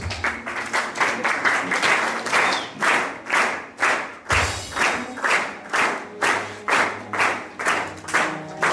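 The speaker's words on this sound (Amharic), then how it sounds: "አጨብጭቡ።" A wedding congregation claps in steady rhythmic unison, about two beats a second, loud and close, the pulsing applause sustained throughout the ceremony hall with a brief thump partway through.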